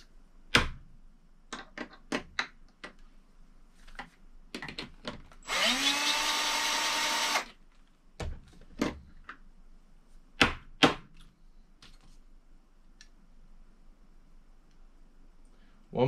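A case trimmer trimming 6.5 Creedmoor brass cases to length during reloading runs in one loud whirring burst of about two seconds, set among sparse sharp clicks and handling taps in a quiet room.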